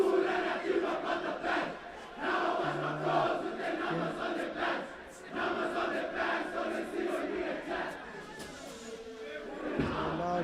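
Graeme College supporters chant a loud, rhythmic war cry at a schoolboy rugby match against Rugby School UK, many voices shouting in unison in surging bursts with brief lulls, plus scattered sharp shouts.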